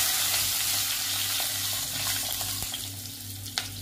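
Mustard seeds, curry leaves, salt, red chilli and turmeric sizzling in hot oil in a pan while making rava dosa filling, a close continuous fry with faint stirring clicks, easing slightly toward the end.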